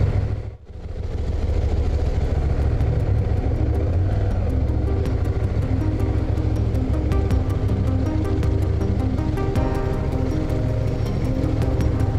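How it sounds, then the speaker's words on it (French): Motorcycle riding through a narrow village street in the Orb valley of Occitania, its engine a loud, steady, close drone with a throbbing pulse that holds throughout. "on va faire un petit tour dans le village avec la moto"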